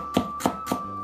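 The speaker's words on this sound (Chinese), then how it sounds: "切点姜片调和一下" A kitchen knife slices ginger on a cutting board for a konjac beer duck dish, three crisp evenly spaced chops close up, each a short sharp knock against the board, with no voices.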